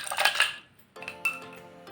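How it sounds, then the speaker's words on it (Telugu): Ice cubes drop into a glass for masala lemon juice: a bright clattering burst, then a short pause and a second lighter clink with a brief ringing tone, close and fairly quiet. "కొన్ని ఐస్ ముక్కలు వేసుకోవాలి."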